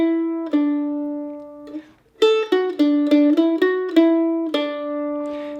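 Mandolin plays measure 4 of the Irish jig The Foxhunters alone and close: bright plucked notes in two groups of three quick notes, then a longer note and a short closing note, with a brief pause partway.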